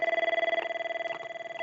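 A 5410/5420 office desk telephone ringer trills in a steady rapid warble while its volume is stepped, the tone shifting slightly between levels. It is heard alone and close.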